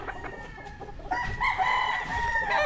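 A white-legged Sweater gamefowl rooster crows loud and close in one long drawn-out call that rises and holds, preceded by a second of quieter farmyard background with no voices.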